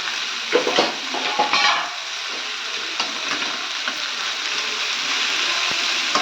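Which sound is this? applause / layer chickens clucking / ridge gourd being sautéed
ridge gourd being sautéed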